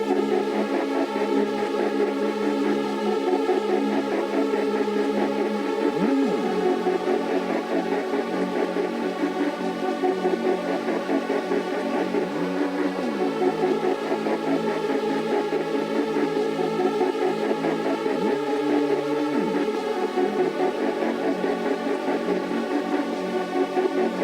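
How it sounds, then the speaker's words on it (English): A dark trap beat with a deep, gliding Reese bass and layered melodic synths, playing continuously and loud with no voices. "with all the melodies and that Reese bass, it sounds like this"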